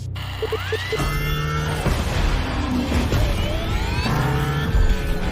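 Audi S1 E2 Quattro racing in The Crew Motorfest, its twin Formula E electric motors whining loudly as they rise and fall in pitch, with tire squeal and other race cars rushing past throughout.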